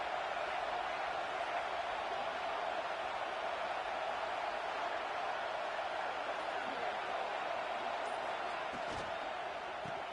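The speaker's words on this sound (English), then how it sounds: "This crowd bringing the energy and noise early." Crowd noise fills a football stadium as a dense, steady roar that stays even and constant throughout, with no distinct voices standing out.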